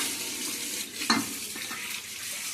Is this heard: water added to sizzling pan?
yes